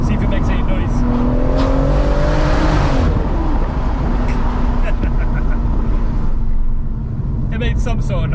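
Stage 3 BMW M140i driving over a bridge, a loud steady engine and road roar from inside the car with a brief rising rev, tire and road noise continuing throughout.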